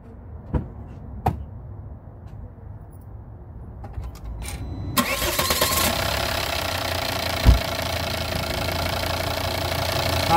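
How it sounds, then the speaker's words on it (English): A Volvo XC90 D5 AWD diesel with a stuck swirl flap actuator clicks a few times, then cranks and fires, settling into a steady, fairly loud idle with a knocking diesel rumble. "okay, now I'm going to start the engine again."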